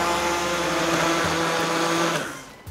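Kitchen blender whirring loudly and steadily as it blends mussel soup with parsley, cream and salted butter, holding a constant motor drone before winding down at the end, no voices.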